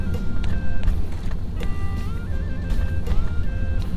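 A car drives through the town of Nong Khai with a steady engine and road rumble close by. High electronic beeping and chiming tones run over it at an uneven rhythm, and no one speaks.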